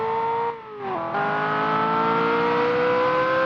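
A Ferrari 348 Spider engine in a racing video game holds a steady, loud, high-pitched rev. It dips briefly early on, then climbs smoothly and screams continuously, with no talking.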